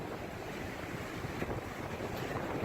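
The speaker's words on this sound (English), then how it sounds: "The water, the ocean." Ocean water moves beside a seaside walkway in a steady broadband wash, with wind buffeting the microphone throughout and no voices.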